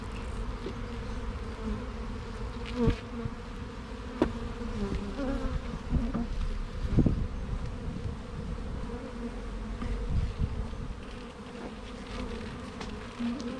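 Honey bees buzz steadily around an opened hive during an inspection, a dense continuous drone with occasional closer individual bees passing by.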